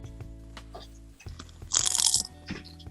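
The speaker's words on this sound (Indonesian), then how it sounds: "Harusnya gue mute tapi nggak usah lah biar kedengeran kriuk-kriuknya ya" Fried gorengan snacks bitten with loud, close crisp crunches, one long bright crackling bite in the middle framed by smaller chewing crackles, heard without speech.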